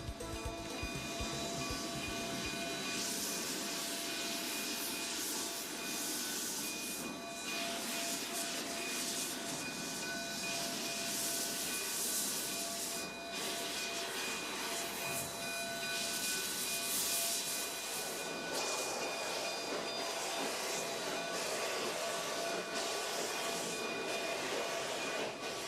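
A Cumbres and Toltec narrow-gauge steam train pulling out of Antonito in Colorado's San Luis Valley, a continuous rumbling, hissing roll of wheels and steam with a faint high tonal whine, steady and moderately close.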